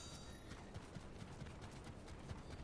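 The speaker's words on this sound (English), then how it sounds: "There were footsteps. I heard them." Footsteps in the Fortnite video game, a quiet, steady run of rhythmic thuds that sounds somewhat like hooves, with no voices.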